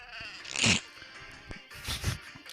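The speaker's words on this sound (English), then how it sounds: "Just a bit of the sheep." A sheep bleats twice, one short call followed by a longer, wavering bleat, fairly close and with no other voices.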